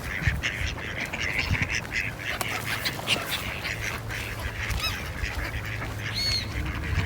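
Ducks and geese quack and honk repeatedly while being fed by a clear-water lake in Denmark, a busy chorus of calls near and far with scattered splashing throughout.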